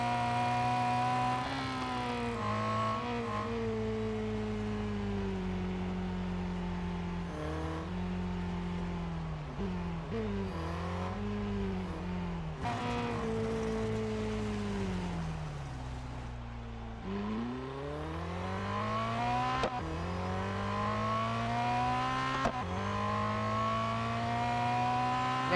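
A race car in the Real Racing 3 mobile game drones loudly and steadily for the whole stretch, its engine pitch climbing through gears, dropping at shifts and rising again in repeated revving sweeps.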